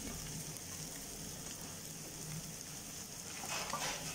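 Egg and torn pieces of dosa frying in a hot pan, giving a steady quiet sizzle with a brief burst of louder crackle near the end.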